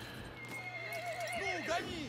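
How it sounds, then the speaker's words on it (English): A horse whinnies in a rising and falling neigh over faint hoof clops and steady background noise in Battlefield 1, with a voice talking underneath. "Let's try and get on the horse."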